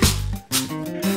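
A percussion shaker is shaken in three brisk, breathy rattles, spaced about half a second apart over gentle instrumental music.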